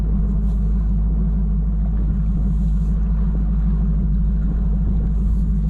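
A fishing boat motor idles steadily on a northern Wisconsin lake, giving a continuous low, even rumble that holds at one level without revving.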